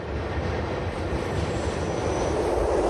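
Steady rumble of a train running along the railway through the Hasli Valley in Switzerland toward Meiringen, heard from on board as a continuous, fairly loud rolling drone with a faint high whine above it, no talking.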